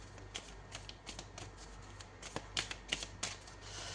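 Tarot cards shuffled and drawn by hand, a quick run of soft riffling slaps and flicks, close and quiet.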